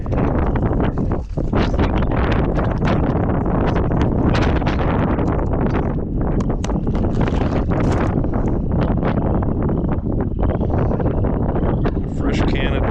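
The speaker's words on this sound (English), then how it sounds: "This wind is gusty." Gusty wind buffets the microphone outdoors on a fishing outing, a loud, continuous broadband roar that surges and rustles throughout with no pause.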